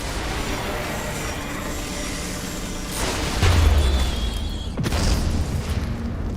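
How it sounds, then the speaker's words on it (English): A deep booming explosion goes off in the roguelike shooter Space Raiders in Space, a low rumbling burst swelling midway over a steady bed of game noise, followed by a second softer thud. "Nice little explosion. Kaboom."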